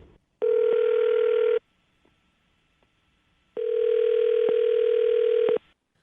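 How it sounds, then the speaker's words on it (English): A telephone line tone heard from a radio-show call, two long steady tone bursts separated by a pause of silence, clear and close. "I'm going to dial his phone number right now"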